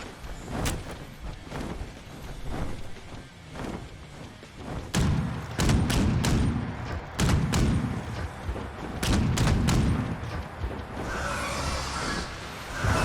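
A Furious Gatling gun in Fallout 76 fires in uneven bursts of sharp, heavy shots, some spaced and some tightly clustered, with booming thuds between them at moderate loudness.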